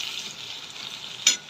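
Tomato sizzles in hot oil in a pan while being stirred, a steady close hiss broken by one sharp scrape of the spatula near the end.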